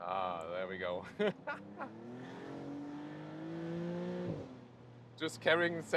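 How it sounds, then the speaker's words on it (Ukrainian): A Maserati MCPura V6 sports car accelerates hard in second gear, its engine note climbing steadily and loudly for several seconds before a brief drop at the shift, with a few short bursts around it. "Друга передача легко крутиться до 100 км на годину."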